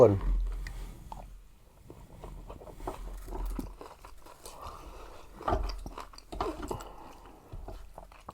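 Pork cracklings being chewed up close, with soft crunching and mouth sounds under intermittent talk and background noise.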